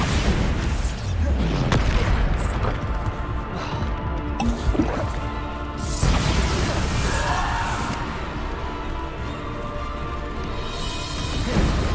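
In Hogwarts Legacy, the Bombarda spell explodes amid combat, with heavy, dense booming bursts and wet, crackling impacts over continuous battle noise, and a voice speaks between the blasts.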